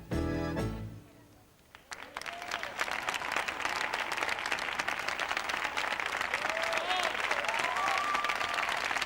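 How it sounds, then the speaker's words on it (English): Prolonged applause from a dance championship audience after a group tango at the 2003 European Standard Championship in Spain, a dense sustained clapping roar following a brief music ending. "Prolonged applause for the group tango."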